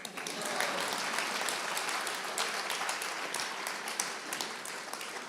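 A crowd at a Tamil pattimandram debate claps loudly and continuously, a thick, sustained roar of applause from many hands with no talking over it.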